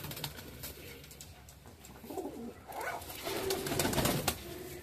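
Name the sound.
Kamagar and Golden pigeons cooing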